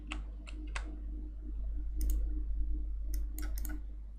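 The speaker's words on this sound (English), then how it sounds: "press tab and then type the name of the node you want" Keystrokes on a computer keyboard while typing a node name into a compositing program's search field: a few sparse clicks early on, then quick bursts of typing, with a steady low hum underneath.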